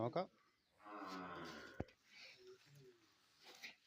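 A single drawn-out cow moo, fairly soft, followed by a sharp click and a few quiet low grunts in an otherwise still farm setting.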